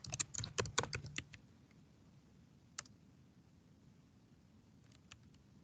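Fast burst of clicky typing on a computer keyboard while editing Python code, a quick cluster of keystrokes in the first second, then a few isolated key taps against a quiet room.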